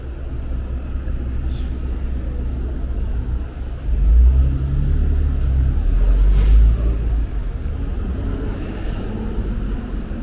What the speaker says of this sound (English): Traffic is picked up.